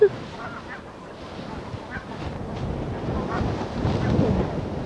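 Ducks honk and call while being fed bread outdoors, their scattered calls heard over steady wind rumble and a faint voice.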